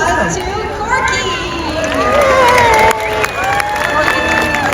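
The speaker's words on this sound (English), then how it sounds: "bringing a big round of applause to Corky" A stadium audience at a SeaWorld San Diego orca show cheers, claps and shouts for the orca Corky, a loud, continuous crowd roar with scattered whistles and children's voices.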